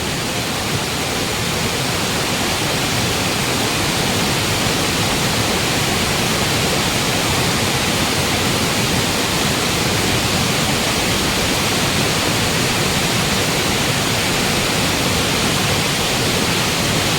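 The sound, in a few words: rushing stream water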